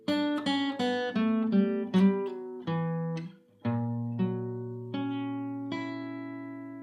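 Guitar chords from the next section of a song, played slowly and alone, each chord ringing out and decaying before the next, with a lower sustained chord in the second half.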